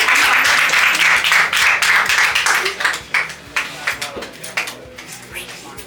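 Applause from a debate audience for a speaker, a dense burst of many hands clapping that thins into scattered, fading claps toward the end.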